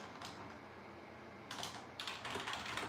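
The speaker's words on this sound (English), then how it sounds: "Well, I'm typing" Keystrokes tap on a computer keyboard in quick, soft bursts over a low room hiss, fairly faint and without speech.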